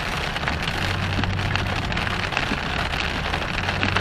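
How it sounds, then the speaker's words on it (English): Heavy rain pours steadily outside, forming puddles, with a dense, continuous patter of drops on surfaces and a low rumbling undertone throughout, no voices. "It's raining hard."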